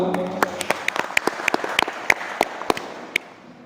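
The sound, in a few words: audience applause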